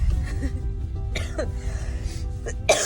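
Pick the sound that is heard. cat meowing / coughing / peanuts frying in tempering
coughing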